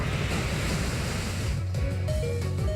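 Gyarados's Waterfall attack in the Pokémon Omega Ruby video game, a loud rushing surge of water like crashing surf, continuous for a few seconds, then easing under faint game tones.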